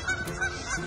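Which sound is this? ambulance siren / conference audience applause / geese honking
geese honking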